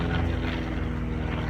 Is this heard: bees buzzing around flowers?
no